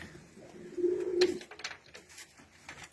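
A white Istanbul pigeon in a loft gives one low, drawn-out coo, close and clear, followed by quieter shuffling and faint bird sounds.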